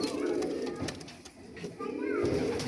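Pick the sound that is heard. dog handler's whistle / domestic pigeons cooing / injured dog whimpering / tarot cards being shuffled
domestic pigeons cooing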